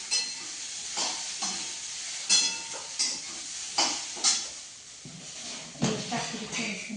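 Okra (bhindi) roasts in a pan over a steady sizzle while a spatula repeatedly stirs and scrapes it in sharp, uneven strokes, all fairly close.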